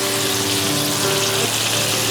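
Steady, loud sizzling of round, lemon-sized chicken hara kebabs frying in hot oil, a dense crackling hiss that runs continuously with no voices.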